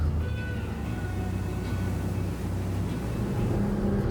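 Duckworth 30 boat with Sharrow props running under power in a turn, a loud, steady engine drone with a wavering whine over rushing water and wind, and no talk.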